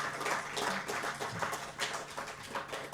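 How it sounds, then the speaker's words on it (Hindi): Audience at the Swadesh Tourism Conclave 2022 giving a round of applause, a moderate, steady patter of many hands clapping in a hall for a few seconds. "कृपया राष्ट्रीय जी का करतल ध्वनि से स्वागत करें।"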